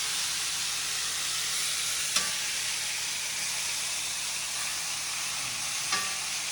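Steak and mushrooms sizzle steadily in a hot stir-fry pan, a loud continuous frying hiss broken by a couple of faint clicks from stirring, with no voices.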